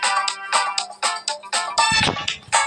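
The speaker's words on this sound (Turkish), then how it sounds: "telefon geldi" Phone ringtone during a Stumble Guys game session, a repeating melodic pattern of bright tonal bursts played loud and close, with a brief low rumble near the end.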